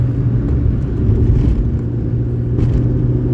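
A Suzuki Alto engine pulls hard through corners on a country road, a loud, steady low rumble and drone from inside the car, rising slightly as power stays on.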